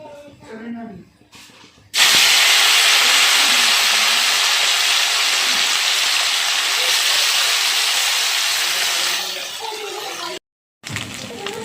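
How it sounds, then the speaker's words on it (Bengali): Chengo fish sizzling in hot oil in a wok, a loud sudden hiss that bursts in and holds steady for several seconds before fading, with quiet kitchen sounds around it. "এবার আমি মাছগুলো তেলের উপরে দিয়ে ভেজে নিচ্ছি"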